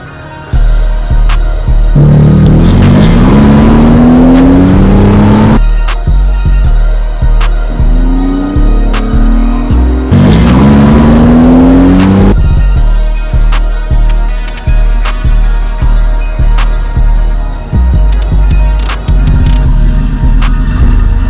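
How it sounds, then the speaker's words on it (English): A 2002 Chevrolet Camaro 25th anniversary edition revs loud and close in an echoey space, with two long sweeping rises and falls between stretches of rough, pulsing idle. No one speaks. "This is my 2002 25th anniversary Camaro."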